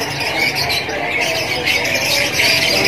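Many canaries at a bird stock shop, males and females mixed together, chirp and squawk in a dense, continuous chorus close by, loud and unbroken.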